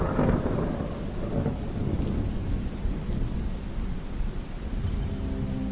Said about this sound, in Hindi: तेज हवा और बारिश के कारण आगे बढ़ना मुश्किल हो गया।